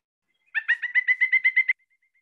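A pileated woodpecker call plays from a recording: a loud, even run of about ten rapid, ringing notes lasting just over a second, alone and with no talk.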